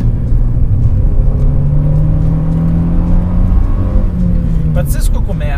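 A Renault Megane RS R26 hot hatch pulls out of a corner at full throttle, its engine droning and rising steadily in pitch, heard from inside the cabin under an occasional voice.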